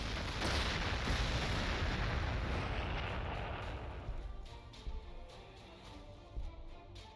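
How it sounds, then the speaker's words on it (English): Artillery bombardment in the strategy game Warhammer 40,000: Gladius, a dense roaring barrage of booms that fades after a few seconds into a quieter rumble with scattered distant blasts. "Guess we should still go back to just bombarding this."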